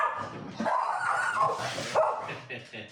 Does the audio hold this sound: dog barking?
yes